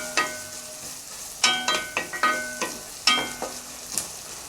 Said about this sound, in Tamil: கருவேப்பிலை அண்ட் தென் நம்ம இடித்து வச்சுருக்க இந்த இஞ்சி பூண்டு ரெண்டையும் போட்டு நல்லா வதக்கணும்